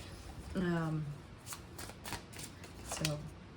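Tarot cards riffled and shuffled in a quiet room, a few soft bursts of papery flutter interspersed with brief hums of a voice.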